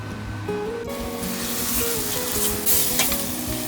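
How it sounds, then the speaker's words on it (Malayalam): Chana masala base of onion and masala sautés in oil in a pan under continuous stirring. A loud, dense sizzle runs throughout, with scraping strokes from the spoon close by. "ഇത് ചേർത്ത് നന്നായിട്ട് വഴറ്റിയെടുക്കണം."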